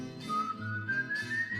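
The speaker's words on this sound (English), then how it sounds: "He was always whistling." A boy whistles a single sustained tune, the pitch climbing slowly across the short phrase, close and fairly soft with no speech.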